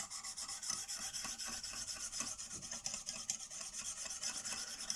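CK Viper knife with M390 steel being sharpened on a medium Lansky stone, a close, continuous rapid scraping of rhythmic strokes with no talking.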